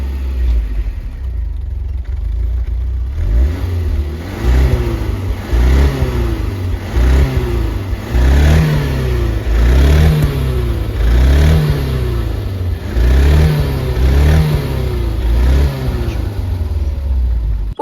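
A Fiat Uno Turbo, the first turbo car built in Brazil, is revved repeatedly after a quiet start, with loud, close engine blips rising and falling in an even rhythm about every second and a half.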